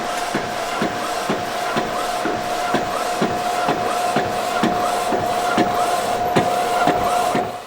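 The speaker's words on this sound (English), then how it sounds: "So I'm gonna let that print out." A DTF printer runs a print job, its print head ticking back and forth in an even beat of soft clicks over a constant mechanical hum.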